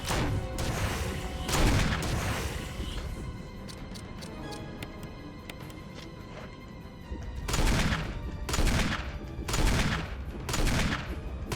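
Gunfire from the Resident Evil REmake video game, bursts of shots in two clusters, early and then a rapid run near the end, with a quieter ticking stretch in between and no voices.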